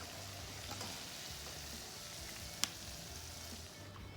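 Sheep testicles, or mountain oysters, deep frying in grease, giving a steady soft bubbling sizzle with one sharp click partway through and no talking.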